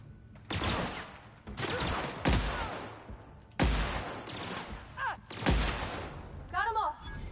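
Loud, close gunfire from The Outer Worlds video game: several heavy bursts of shots in quick succession, each decaying with a rumbling tail, with brief higher-pitched chirping effects in between.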